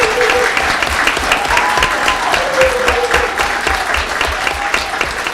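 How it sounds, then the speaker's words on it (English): Loud, sustained applause and cheering from an audience at a school district governing board meeting honoring a spelling bee champion and runner-up, a dense close wash of many hands with faint voices mixed in. "Let's give them a round of applause"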